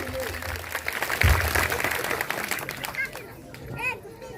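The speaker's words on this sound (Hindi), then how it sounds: "जोरदार तालियों से स्वागत होना चाहिए" A crowd at an outdoor Bhim Army rally for the Maharaja Bijli Pasi Jayanti claps in a loose, scattered wave, mixed with chatter and a loud thump, while a voice speaks over the tail.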